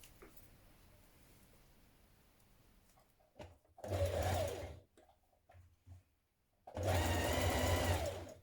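A sewing machine stitches the pieces of a simple woman's top together in two loud, steady bursts, each lasting a couple of seconds, with brief quiet handling sounds between them.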